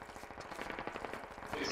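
Distant rapid gunfire in the Squad video game: quick rattling bursts of shots, faint and muffled, running continuously for under two seconds.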